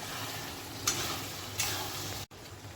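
Turmeric, cumin, coriander, chili and biryani masala are stirred in a hot pan. A soft, faint sizzle runs throughout, broken by two quick scraping strokes of the spoon.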